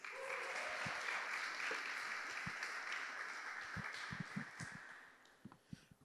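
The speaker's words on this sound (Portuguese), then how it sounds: "Você pode aplaudir Jesus?" A church congregation claps at a Portuguese-language service, a dense, bright wash of applause that thins into scattered individual claps toward the end.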